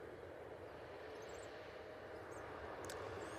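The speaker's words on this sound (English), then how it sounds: "Next in, we have this Ryanair coming in from Fake Paris." A Ryanair airliner arrives at Manchester Airport, its engines giving a steady, fairly distant roar that holds at an even level throughout.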